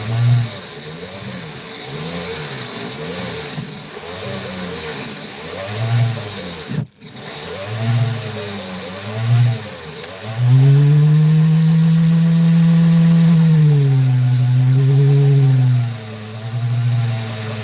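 Saw cutting opal: a loud motorized whine that rises and falls in rhythmic pulses while the blade works the stone, briefly cutting out, then settling into a sustained steady drone with pitch shifts as the cut is re-angled.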